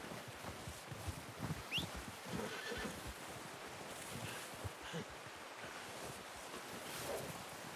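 Horse neighing with hooves clip-clopping in Red Dead Redemption 2, set against steady ambient wind and surf-like noise, with a brief whinny and soft hoof thuds scattered through the background.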